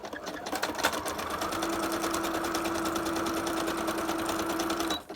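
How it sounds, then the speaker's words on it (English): A sewing machine runs a zigzag stitch across a cereal box liner, a fast steady mechanical chatter with a faint hum, continuous for about five seconds and then stopping, heard close. "I'm going to go across here with my zigzag"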